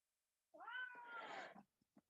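A pet cat meows once, long and drawn-out with a rising then steady tone, close and clear in a quiet room, followed by a few faint soft taps.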